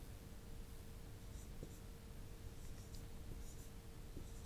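Pen or chalk writing during a math lecture on Coulomb's law, faint scratchy strokes in short bursts over a steady background hiss, with no talk.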